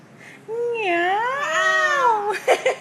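Cat meowing indoors: one long, drawn-out, wavering meow rising and falling, followed by a few short, quieter chirps and sounds near the end, close and clear.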